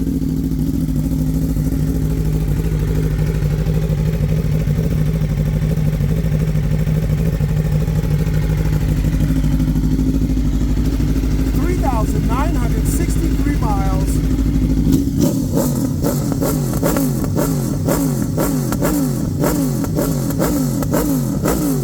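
A motorcycle from a high-end collection idles steadily, then at about fifteen seconds it is blipped into sharp, repeated revs with a rapid, pulsing beat. The engine is loud and close, with some talk over it.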